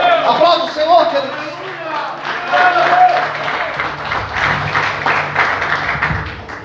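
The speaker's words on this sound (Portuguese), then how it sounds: "Aplauda o Senhor, queridos." Church congregation applauding during a Portuguese-language sermon; a voice talks over the start before a broad, sustained round of clapping swells and fills the room for several seconds.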